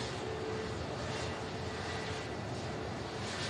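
A British Airways airliner taxiing at Manchester Airport, heard as a continuous broadband engine roar with a steady whine, loud and unbroken throughout.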